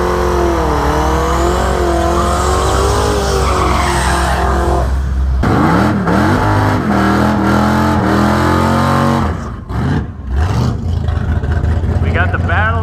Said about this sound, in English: We got the battle of the big heavy Dodges here.